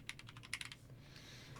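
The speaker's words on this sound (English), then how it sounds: "I feel like I'm the only one that hates mechanical keyboard sounds." Clicky mechanical keyboard keys tapped in a quick, faint burst of several strokes at a desk, followed by a short quiet pause.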